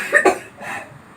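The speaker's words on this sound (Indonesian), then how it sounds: "Batuk" A person coughs twice in quick succession, two short, close, rough bursts followed by a faint breathy tail.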